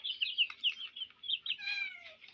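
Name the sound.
cat meowing, wanting to eat eggs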